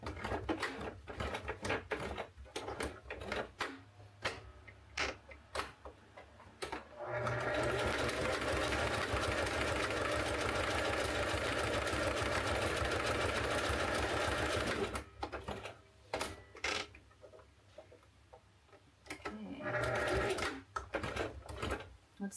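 A sewing machine stitches a rope coaster in a long, steady run of about eight seconds, framed by stretches of clicks, taps and handling noise and a brief final burst of stitching.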